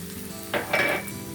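Mushrooms sizzle softly in a pan, with a couple of quick stirring scrapes near the end, close and quiet.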